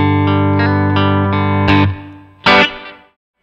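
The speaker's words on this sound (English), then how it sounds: "So I put on a little bit of a spring reverb on here." Electric guitar played through a Fender amp with a touch of spring reverb, sustained ringing chords with distortion, then a sharp strum and a short reverb trail dying away, loud and alone.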